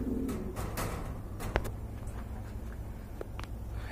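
Short-faced pigeons, a red-geared pair among many domestic and foreign pigeons at a sale, give low, soft coos in a quiet setting, with a few faint taps and knocks scattered throughout.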